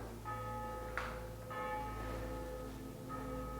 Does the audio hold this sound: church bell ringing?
yes